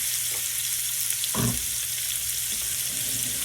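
Cajun salmon sautés in olive oil in a pan, giving a steady close sizzling hiss throughout with one brief scraping stir partway through.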